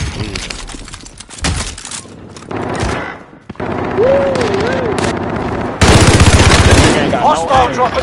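Automatic weapon fire from a PS/PC shooter video game, loud bursts of gunshots and fusillades recurring throughout, with game voices and radio-style chatter underneath and a heavier burst near the end.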